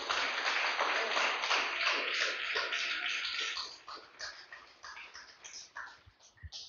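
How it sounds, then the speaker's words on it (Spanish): A church congregation at a Spanish-language service applauds in praise, with dense, loud clapping filling the room for several seconds, then thinning into scattered, fading claps. "Déselo fuerte el aplauso al Señor"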